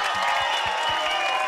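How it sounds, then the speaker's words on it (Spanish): Steady crowd applause and cheering at a rap battle final fill the whole stretch, a dense wash of clapping with a few rhythmic thumps underneath. "vamos a darles un fuerte aplauso a estos dos cabrones"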